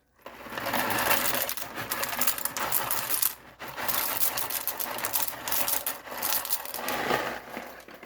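Dry farfalle pasta, about 8 ounces, is poured into a crockpot, giving a dense close rattle of hard pieces clattering and sliding for several seconds with a short pause midway.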